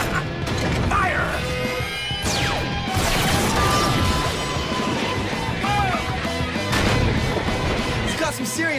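Giant robot weapons fire in a superhero battle, a dense barrage of mechanical clanks, crashes and whooshing blasts with sweeping tones, loud and continuous for several seconds.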